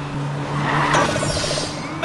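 A cartoon car racing along a track in the PJ Masks Hero Academy game, a steady engine hum with a brief squeal near the middle, under an upbeat game voice calling out encouragement.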